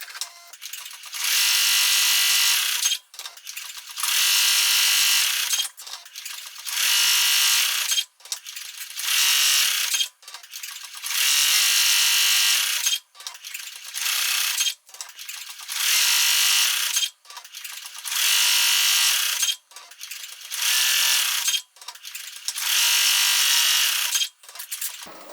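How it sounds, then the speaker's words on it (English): A Ricoma MT1501 embroidery machine stitches over foam with a loud, fast mechanical whirr. The sound comes in repeated bursts of about two seconds, separated by short pauses, and no one talks over it. "it's going to go ahead and embroider over said foam"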